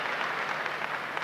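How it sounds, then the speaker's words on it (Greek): Crowd applause at the Eurobasket 1987 opening ceremony, a steady dense wash of clapping from a large audience throughout, with no voices. "Χειροκροτήματα"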